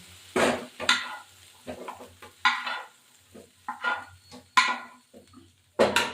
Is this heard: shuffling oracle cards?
no